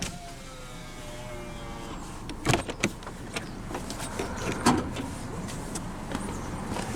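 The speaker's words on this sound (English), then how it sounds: "But now we'll roll down the driver's window and have a look at the engine bay." Power driver's window of a 2007 Honda Civic LX sedan rolling down, a steady low motor whir across several seconds with a few sharper clicks and knocks near the middle, close by with no talking.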